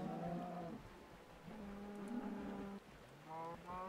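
Cows in a Minecraft cow farm moo repeatedly, a series of separate low bellowing calls, some overlapping and some with short gaps between them, quiet and unaccompanied by speech.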